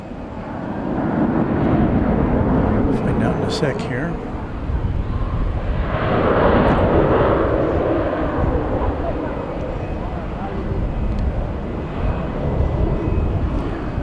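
A departing airliner at DFW Airport at night, a broad steady jet roar that swells and lingers at middle distance, with someone talking briefly over it.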